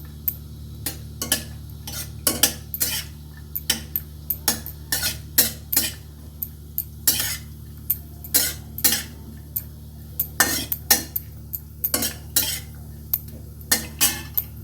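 A utensil stirring and scraping in a pan of lightly frying macaroni kheer ingredients in ghee, with frequent sharp metallic clinks in an irregular rhythm over a faint low background hum, close and with no talking.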